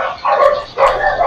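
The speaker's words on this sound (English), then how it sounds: "Guard dogs are here." Guard dogs bark twice in quick succession in the A Way Out video game, two close, sharp barks a fraction of a second apart with no talk over them.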